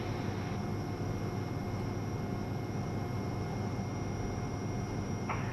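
A Cirrus SF50 Vision Jet climbs after takeoff from Cranfield. Inside the cabin, a constant broadband roar with a faint steady tonal hum holds at an even level throughout, with no speech.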